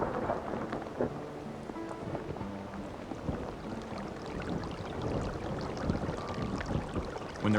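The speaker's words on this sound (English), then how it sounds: "When the rains finally come to this arid land" Steady rain falls in an arid desert, a soft continuous patter with dull low rumbles beneath, even and unbroken throughout.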